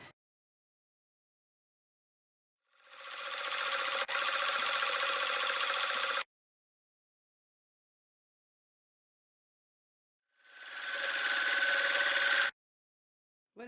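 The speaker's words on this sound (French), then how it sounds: "Et ensuite, on va faire une couture ici." A sewing machine stitches a seam on a fabric handbag, running in two steady, continuous bursts of a few seconds each with a pause between, fairly loud and alone with no talking.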